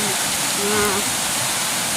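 A flooded river surges past riverside houses ahead of a typhoon, a dense, constant roar of rushing water up close, with a voice briefly speaking under the din.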